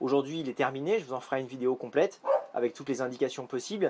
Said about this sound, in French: ça c'est mon chien qui hurle